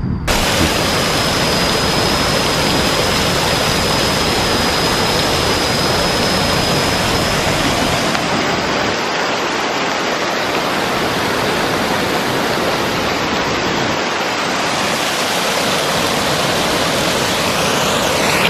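A small working waterfall in the mountains near Phitsanulok, central Thailand, roars as a steady, loud broadband rush of falling water that runs unbroken for the whole stretch, with no voices over it.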